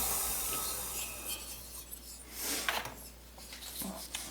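Hand sanding with 400 grit aluminum oxide sandpaper while porting, producing soft uneven rubbing and rasping strokes, close and fairly quiet over a low hum.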